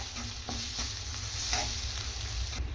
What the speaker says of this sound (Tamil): இப்போ நல்ல எண்ணெயிலே நல்லா வதக்கி விட்டுறணும் இதை மசாலாவை